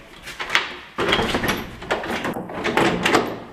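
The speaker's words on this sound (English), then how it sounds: "Back door works fine." A sturdy back door with an old, rickety doorknob is opened and then shut at close range, giving a couple of knocks and a firm thud followed by a rattling swing and a second closing clunk.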